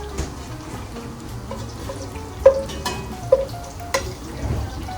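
Meat sizzles faintly in a pot while it is stirred for jambalaya, with a low steady hiss and a few sharp scraping clanks of the spoon against the metal.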